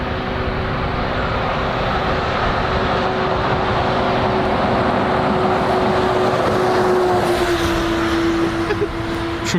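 A truck rumbles past near Dublin Airport, a continuous low engine drone with a steady tonal hum that swells slightly as it passes close by, with no talk over it.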